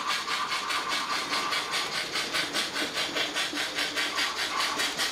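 Model railway locomotive Kashmir, an LMS engine, running steadily around a curve of track, giving a continuous rhythmic clatter of wheels over rail joints, close and even in level with no talking.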